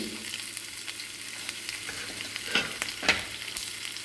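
Garlic and ginger fry in a hot pan for thayir kanji, a soft steady sizzle with a few sharper stirring scrapes and spatters near the end, no talking.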